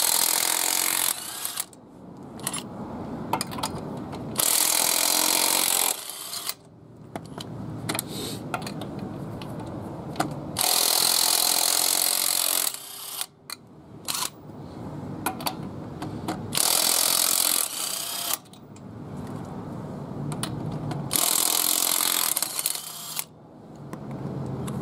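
A power tool, probably an impact wrench, works on the front wheel of a 1985-1994 Ford F-150 4x4 to remove the tire. It runs in repeated loud bursts of several seconds, broken by short quiet gaps.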